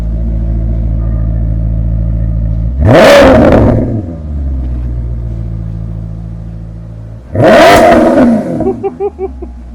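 A Maserati with its stock exhaust revs hard twice while accelerating, each loud roaring rise fading back to an idle rumble, with a few crackles after the second burst.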